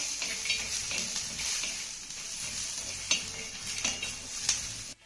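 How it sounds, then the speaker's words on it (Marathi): Onion, ginger, garlic and cashews sautéing and being stirred in a pan, with a steady soft sizzle, scraping strokes and occasional utensil clinks, close up and with no voices. "हे सर्व साहित्य आपल्याला पुन्हा दोन मिनिटं चांगलं परतून घ्यायचं आहे"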